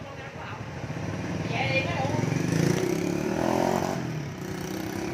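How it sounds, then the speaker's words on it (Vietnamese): A Honda Wave Thai 100 motorcycle in near-original condition runs with a steady engine hum that rises slightly and falls back, while someone talks over it at close range. "một chiếc xe máy là như xe điện ha rất là mạnh đầu nồi chưa rớt anh em chạy là, là rất là ok"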